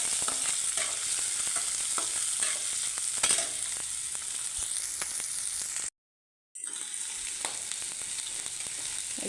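Prawns with onion and garlic fry in a pan, a steady crackling sizzle with stirring scrapes and taps, broken by a brief gap of silence before the frying resumes.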